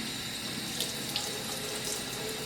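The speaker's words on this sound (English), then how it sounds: "let it rinse out while I continue washing it and make sure you get all the soap out" A makeup brush is rinsed under a running tap, with a steady, close rush of water splashing into a sink, continuous and fairly loud, with a few small splashy surges.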